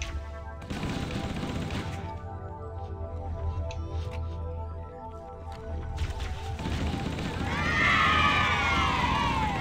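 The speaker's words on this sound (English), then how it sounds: "the grenade chain explosion did a lot of damage" Gunfire and a grenade chain explosion in Halo CE, dense bursts of shots and heavy blasts running almost nonstop, with high shrieking game effects near the end.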